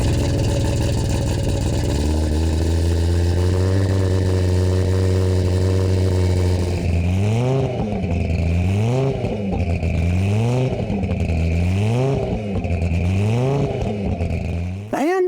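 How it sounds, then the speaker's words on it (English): An Audi 90 IMSA race car's five-cylinder engine with side exhaust holds a loud, rough idle, then gets blipped through a series of sharp, evenly spaced revs, each climbing and falling back. "even though it's only a 5-cylinder engine, it's quite loud. Take a listen to that car and a few revs."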